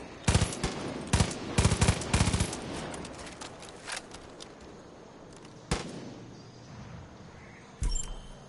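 Automatic gunfire in Far Cry 5 aimed at circling vultures: several loud, rapid bursts early on, then sparser single shots and another burst near the end, with quieter gaps between.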